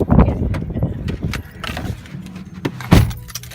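Car keys jangle and rattle near at hand while a car is being unlocked, irregular metallic clinks and soft thuds scattered through a short stretch, with a faint voice in the background.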